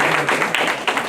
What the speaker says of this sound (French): On l'applaudit tout de même